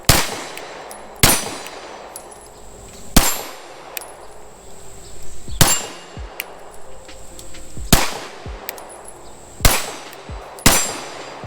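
A CZ P07 pistol fired at a shooting range, loud sharp shots spaced a second or two apart with ringing metallic echoes between them, about eight in all, with no talking.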